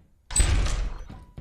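A door in a video game opening after being unlocked with a key: a loud, broad rumbling burst lasting under a second, followed by a softer thud, with no talking.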